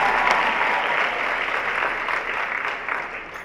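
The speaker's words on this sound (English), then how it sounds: "Please give a big round of applause for our teenagers" A large audience at a fashion show applauds teenage models, a dense, loud wash of clapping that holds steady and fades slightly toward the end.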